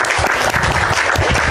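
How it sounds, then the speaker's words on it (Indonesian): A gathered audience claps loudly for Pak Nover, a thick, continuous burst of many hands close by, lasting under two seconds with no pause. "kita kasih dulu tepuk tangan untuk Pak Nover"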